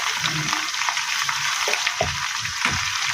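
Large pieces of papaya sauté in a hot pan with a loud, continuous sizzle and frying crackle, and low scraping thumps of stirring against the pan; no speech.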